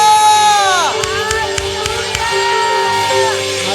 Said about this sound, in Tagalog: Sumigaw ng hallelujah!